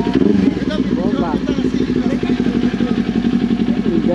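A Kawasaki Ninja 400 motorcycle engine running close up with a busy, throbbing mid-range drone and some clatter, the revs wavering slightly, with people talking over it.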